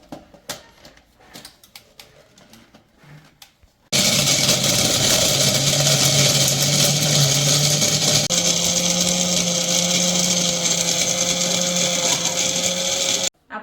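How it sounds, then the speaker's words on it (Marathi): An electric mixer grinder blends coriander, curry leaves and spices in a home kitchen. After a few seconds of quiet clinks and handling, the motor bursts into a loud, steady whirring roar that shifts pitch slightly partway through and runs for about nine seconds before stopping. "आपण आता हे सगळं मिक्सरला फिरवून घेऊया."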